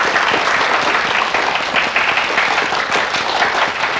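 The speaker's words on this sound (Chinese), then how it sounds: "掌声有请" A roomful of people at a corporate training session applaud to welcome a legal adviser to the stage, a dense, loud, steady burst of clapping throughout.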